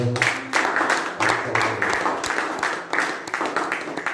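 Church congregation clapping in praise of the Lord at a French-language worship service, a rhythmic burst of many hands repeating in waves over four seconds with a faint sustained tone underneath.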